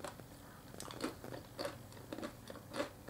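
Crunchy apple crisps are chewed close up, a series of sharp, irregular crunches and crackles spaced about half a second apart, fairly quiet with no talk.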